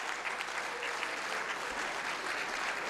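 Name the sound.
audience applause welcoming poet Iqbal Ashar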